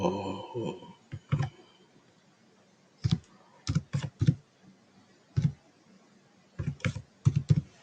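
Typing on a computer keyboard, close and clear, with short bursts of rapid key clicks separated by pauses and a brief voice at the start.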